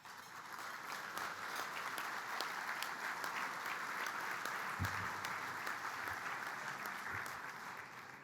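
An audience at a business luncheon addressed by Uruguay's president breaks into sustained applause, a dense, steady wash of many hands clapping that holds an even level for several seconds.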